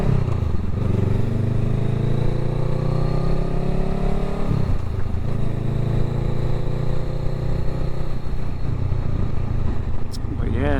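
A motorcycle is ridden with its engine droning steadily close by, the pitch sweeping up and down as it shifts, under wind rush.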